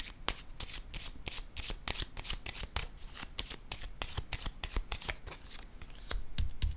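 Tarot cards are handled and laid down during a reading, producing a quick, close run of crisp flicks and snaps at a steady rhythm, fairly quiet, with no talk.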